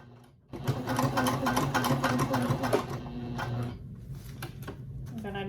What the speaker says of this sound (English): I'm gonna start sewing backwards and then go forward